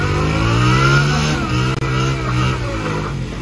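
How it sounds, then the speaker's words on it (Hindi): A 125 motorcycle and a Honda CD 70 rev hard together in a tug of war, their engines blaring loud and close in a steady, droning roar with a brief dip midway. "यहाँ पे रिहाशा और वहा साहब की टक ऑफ वॉर हो रही है जी 125 वर्सेस CD 70"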